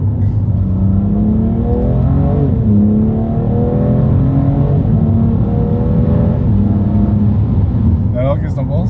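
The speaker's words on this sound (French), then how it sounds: "Dès que t'accélères un peu, bam, tu passes la vitesse." A 2018 BMW M2 Competition engine revs upward through the gears, rising harmonic pitch dropping at each shift, loud and close from inside the car, with a short burst of higher whine near the end.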